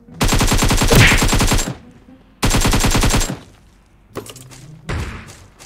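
Bursts of rapid automatic gunfire in a shooting video game, two long sustained volleys followed by shorter, fainter shots, loud and close with no talk over them.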